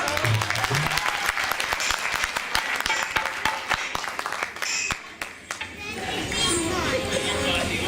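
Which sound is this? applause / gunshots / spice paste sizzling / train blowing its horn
applause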